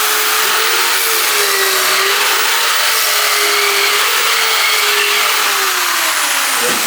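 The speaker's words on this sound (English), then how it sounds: "we'll drill a big hole, 7/8 hole back here for the input jack" A long drill bit bores a 7/8-inch input-jack hole into a wooden Telecaster-style guitar body, giving a steady, loud, continuous whine with a sustained mid-pitched motor tone throughout, alone without talk.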